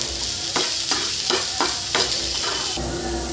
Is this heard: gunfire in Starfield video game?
no